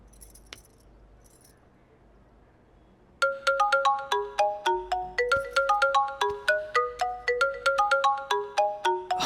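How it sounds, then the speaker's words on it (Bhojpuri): A mobile phone rings with a call from a friend in a Bhojpuri drama scene. After a few quiet seconds, a loud melodic ringtone starts and repeats its chiming phrase over and over. "हमरा दोस्त के फोन है।"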